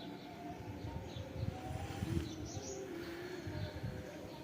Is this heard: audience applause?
no